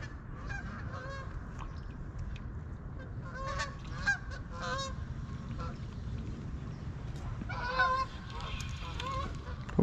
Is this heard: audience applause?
no